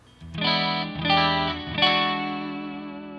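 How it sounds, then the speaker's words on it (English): A few bass guitar notes played in sequence on the neck pickup with no preamp engaged, clean and warm with a slight effect shimmer, each note sustaining before the next. "So here's no preamp engaged. It's just the neck pickup."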